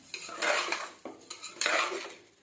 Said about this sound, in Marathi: हे टाकून पूर्ण व्यवस्थित हलवून घ्यायचं आहे